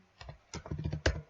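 Keys clack on a computer keyboard as the word localhost is typed into a browser address bar, a short burst of close, crisp taps in uneven rhythm ending on a louder keystroke.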